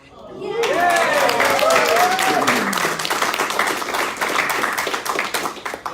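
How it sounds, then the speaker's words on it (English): A presentation audience breaks into steady applause lasting several seconds, dense clapping that gradually thins, with voices and cheering heard at the start. "And Tony, let's give him a round of applause."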